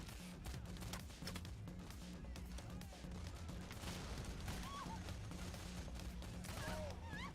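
Rapid bursts of gunfire crackle through a heist video game, a steady stream of overlapping shots under game sounds and faint voices.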